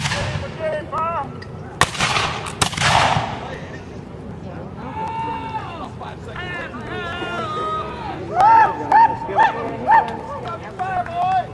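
A volley of musket fire cracks out at a battle reenactment show, sharp loud bursts followed by rolling echoes. Shouted commands, crowd babble and whistling tones continue after the shots.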